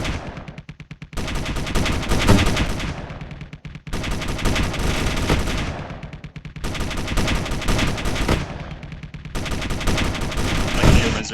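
250mm fixed guns fire in Space Engineers during a ship battle test between the Tempest and the Galene and Naiad. Loud, dense bursts of rapid fire come in long volleys, broken by three short pauses.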